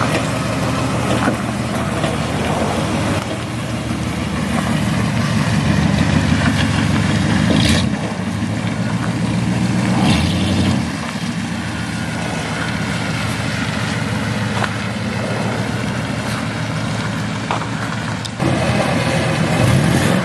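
A 1964 Oldsmobile Starfire V8 engine running steadily, a loud continuous low rumble with slight rises and dips in revs throughout.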